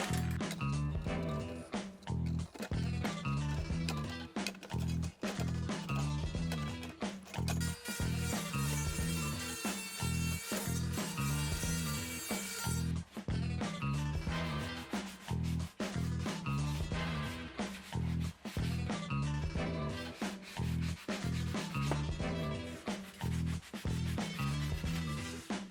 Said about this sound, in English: I just went ahead and cut the sheet with some shears